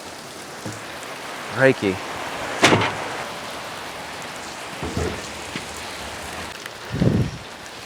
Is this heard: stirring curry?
no